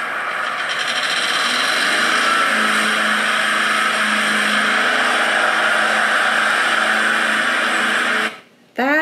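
A lawnmower engine drones steadily and loudly for about eight seconds with a rough, buzzing tone, then cuts out abruptly with a brief trailing sweep.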